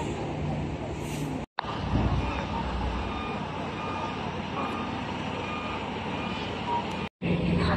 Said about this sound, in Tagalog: Ang dami pang truck.